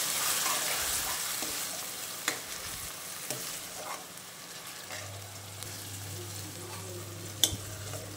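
Coconut paste for chana masala roasting in a pan, with soft sizzling and occasional stirring scrapes, plus a steady low hum toward the end; no talking.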